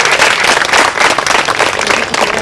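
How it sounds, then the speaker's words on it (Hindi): Loud, dense applause from a theatre audience for a Hindi stage play of Premchand's Poos Ki Raat in Nagpur, a steady wash of many hands clapping with no pauses. "जोरदार तालियां डॉक्टर ढोरे की।"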